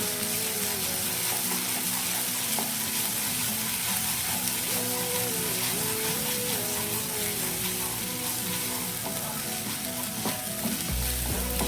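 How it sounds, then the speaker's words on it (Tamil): Onion sautés with ginger garlic paste for a yellow pumpkin kurma, a loud, unbroken sizzle with occasional stirring scrapes, near and steady throughout. "இது கூடவே நம்ம இஞ்சி பூண்டு பேஸ்ட் ஆட் பண்ணிக்கலாம். ஆட் பண்ணி அதோட பச்சை வாசனை போகிற வரைக்கும் வதக்கி விட்டுக்கலாம்"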